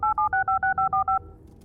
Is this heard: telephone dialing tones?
yes